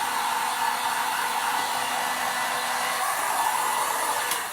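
A hair dryer blows steadily and loudly up close, drying paint on a raised-relief sunflower stencil, with a constant whooshing roar throughout and no talk.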